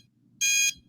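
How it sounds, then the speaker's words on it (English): An alarm sounds in a loud, steady burst of high-pitched harmonic buzzing lasting about a third of a second, then stops and briefly starts again, heard alone over a low background hum. "Oh, and turn off that alarm!"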